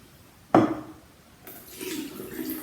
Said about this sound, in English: And rinse it until it's reasonably clear.